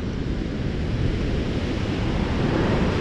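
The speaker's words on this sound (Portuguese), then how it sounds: "Mar revolto aqui em Copacabana. Olha só que coisa linda. Umas ondas enormes, né?" Large, rough ocean waves at Copacabana beach roar in a continuous broadband wash of surf, loud and steady with some wind noise across the microphone, with no voices.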